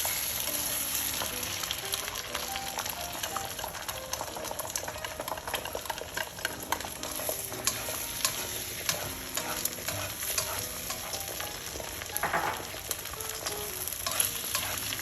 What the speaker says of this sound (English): once we preheated our wok here, so I'm gonna cook my egg here first